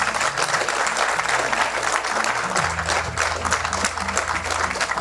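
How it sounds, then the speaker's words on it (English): Sustained, dense applause from a festival audience honoring volunteers at the final night of a Ganesh Utsav celebration, loud and continuous throughout with a low hum of crowd noise underneath. "I would like you to give them a round of applause."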